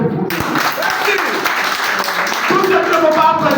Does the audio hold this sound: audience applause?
yes